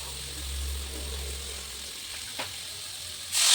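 Spices fry with green plantain in a pan while being stirred. A faint, steady sizzle carries a single sharp scrape of the spoon, then a sudden loud hiss bursts up at the very end. No one speaks.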